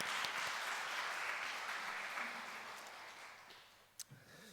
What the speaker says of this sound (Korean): 하나님 앞에 박수로 우리 감사로, 찬양으로 박수 한번 올려드리겠습니다